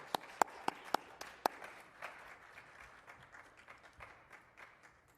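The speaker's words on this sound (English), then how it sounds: "And a round of applause for all of our healthcare workers." A round of applause for healthcare workers at a COVID vaccination event, opening with a few sharp, separate claps and settling into soft, scattered clapping from a small group, fairly faint and distant.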